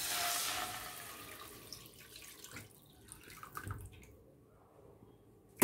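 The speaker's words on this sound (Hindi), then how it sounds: "स्टॉक डाल देते हैं इसमें" Homemade stock poured into a pot of lemon coriander soup, a steady watery splash that is loudest at the start, then tapers into softer trickles and faint drips, with no talking.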